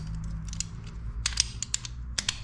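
Ratcheting wrench turning a 12 mm nut on a Nissan 300ZX engine, with quick clicking ratchet strokes in short bursts, close and fairly loud, and no talk.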